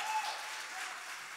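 A church congregation applauds during a sermon, a faint, even wash of distant clapping that lasts briefly.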